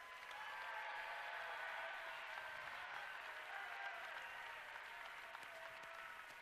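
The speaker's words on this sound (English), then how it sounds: "Can we get a round of applause for our alumni again?" Steady, even applause from the crowd at an FTC robotics championship in Iowa, honouring alumni lined up in front; the clapping is distant and fairly faint and holds at a constant level throughout.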